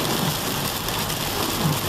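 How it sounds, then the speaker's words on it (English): Heavy rain drumming steadily on a car during a stormy Fourth of July drive in stop-and-go traffic, a dense continuous wash of noise with low road rumble underneath, no talking. "we're still hitting some heavy rain up here."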